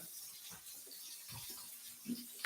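Running tap water pours steadily into a sink during hand washing, a faint, even hiss with occasional soft splashes and no voices.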